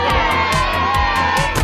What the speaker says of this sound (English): Peppa and George shouted with excitement.